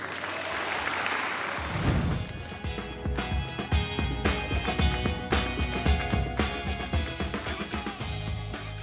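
Children applauding together at the end of a judo class in a dojo, a dense burst of clapping that starts after a brief quiet moment and continues steadily, close and moderately loud.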